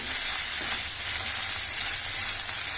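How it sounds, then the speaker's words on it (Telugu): Bitter gourd pieces sizzle steadily in hot oil, a dense, even hiss that holds without a break and is heard close with no voices. "చూడండి, వేగినాయండి, మంచిగా నూనెలో మగ్గినవి, ఫ్రై అయినాయి."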